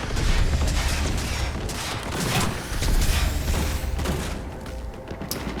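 Enemies open fire in Cyberpunk 2077 with dense, continuous rattling bursts and thumping booms that swell and ease over several seconds, with no voices over them.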